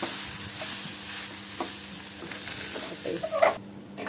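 Prawns frying in a pan for a prawn roast, a soft continuous sizzle broken by scraping stirring strokes and light clatters near the end, with no talk.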